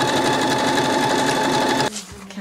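A sewing machine stitches a felt Easter basket, running back and forth around the edge with a fast, steady mechanical whir up close, stopping abruptly near the end.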